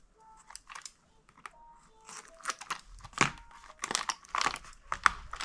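A box of glitter for a craft project is handled and opened, giving a run of crisp crinkling, tearing and crunching packaging noises. The bursts are close and quiet and grow busier toward the end.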